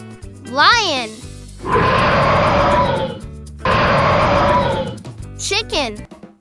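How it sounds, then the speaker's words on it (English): A lion gives two deep, rough, rumbling roars of over a second each, loud and near, with a short spoken voice just before and after. "Lion."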